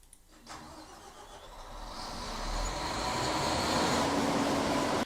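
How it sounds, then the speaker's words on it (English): A generator cranks and starts up, its engine catching and rising into a steady loud running hum over a few seconds. "And generator starting sounds like this."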